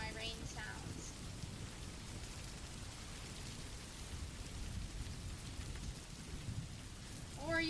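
Rain ambience played as background, a steady soft hiss of falling rain with faint rumbles, quiet and continuous, with brief snatches of voice at the start and end.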